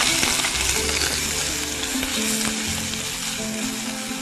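Finely chopped capsicum and ginger-chili paste frying in hot oil with cumin seeds, giving a steady, close sizzle with light stirring scrapes throughout and no talking.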